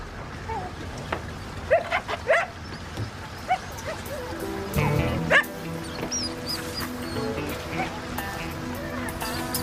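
Two dogs bark and yip in short bursts with occasional whimpers, muffled as if trapped inside a box, while people talk over them.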